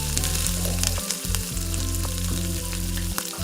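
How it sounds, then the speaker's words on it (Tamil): Garlic and tamarind sautéing in a pan for a green turkey berry chutney, a loud, dense crackling sizzle held close throughout, with repeated scraping stirs cutting across it and no one speaking. "இந்த பூண்டு புளி இதையும் போட்டு நல்லா நம்ம வதக்கிக்கலாம்"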